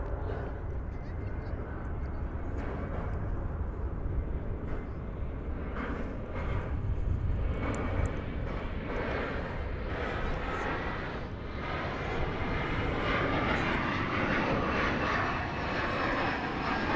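An airplane passes at DFW Airport, its engine roar a steady, loud broadband rumble that holds for the whole stretch with slight swells, while a voice talks intermittently over it.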